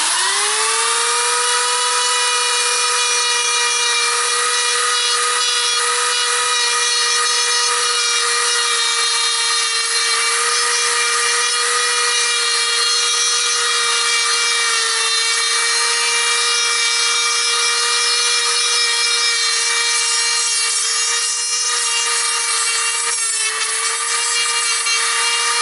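A power grinder carves bonsai wood with a steady high-pitched whine that holds for the whole stretch, loud and close, dipping briefly near the end as the tool's load changes. Nobody talks.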